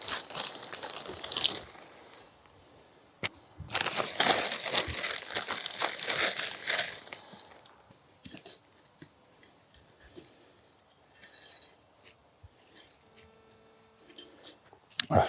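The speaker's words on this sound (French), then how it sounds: "je vais mélanger de la terre de bruyère avec mon terreau" Heather soil being mixed by hand with potting compost in a heat-stressed garden, close rustling, crumbling and crinkling bursts that come and go, busier in the middle and quieter toward the end.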